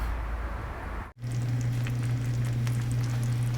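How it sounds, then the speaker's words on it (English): Pork chops sear in a hot pan with a steady, dense sizzle and crackle close to the microphone. After a brief dropout, the sizzle continues over a low constant hum. "I'll get this ramped up and get it seared off."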